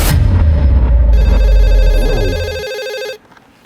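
A telephone rings loudly at a police station in a steady, repeated electronic trill over a low rumble, running for about three seconds before cutting off abruptly.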